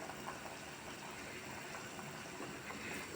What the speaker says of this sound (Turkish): Bunlar da güzel güzel kaynıyor.